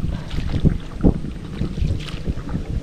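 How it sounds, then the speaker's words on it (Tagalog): Gusty wind buffeting the microphone outdoors beside a river, low rumbling bursts with no speech. "Medyo mahangin po."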